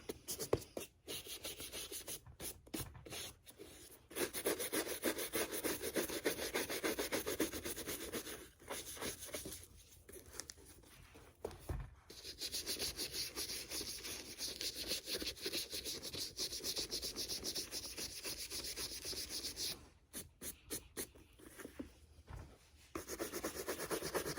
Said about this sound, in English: So I'm going to start with a soft brush just to make sure I'm not dealing with any loose materials or seams. Just going to start brushing the whole shoe.